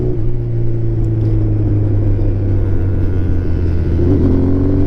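Vintage Yamaha Phaser motorcycle riding along, its engine giving a steady, loud low drone with a slight rise in pitch near the end, no talking.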